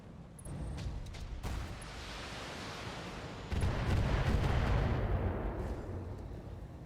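Streak missile volley fired by a mech in BATTLETECH: a low rumbling whoosh of launches building into a louder, denser roar of rockets and blasts midway, staying heavy and noisy to the end.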